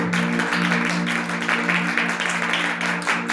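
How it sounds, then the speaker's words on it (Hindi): A church congregation claps in praise, a continuous dense wash of hands under a sustained droning tone, loud and steady throughout. "ओ ताली बजा के प्रभु के नाम की तारीफ।"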